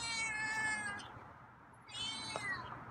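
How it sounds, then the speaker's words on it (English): A feral cat gives two loud, drawn-out meows separated by a short pause, close by with no talking. "got some loud meows."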